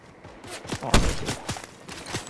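Rapid bursts of Fortnite gunfire crack out in a battle royale match, a loud central volley flanked by several sharper shots and a few softer footsteps, with no talking.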